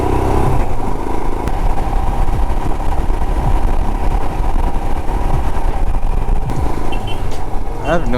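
Engines of Royal Enfield Himalayan motorcycles rumble at a group ride lineup of about 25 bikes, a loud continuous idling drone with people talking over it and wind buffeting the microphone.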